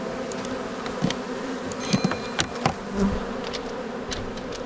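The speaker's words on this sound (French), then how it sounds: "on va laisser l'essaim s'installer tranquillement et puis demain on change tout ça" A honeybee swarm hums steadily at a hive packed with drawn comb, a dense continuous buzz close by with a few louder bees passing near, no talk.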